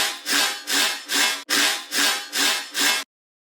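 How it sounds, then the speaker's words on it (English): Resampled riddim dubstep bass layer pitched up seven semitones, bright and sawing, pulsing in seven evenly spaced loud bursts before stopping abruptly into silence. "Then we have another resample layer."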